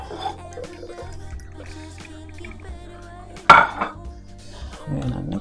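Ingredients are stirred in a bowl with a utensil, with soft scraping and clinking strokes, a louder clatter partway through, and a wet swishing near the end, close by.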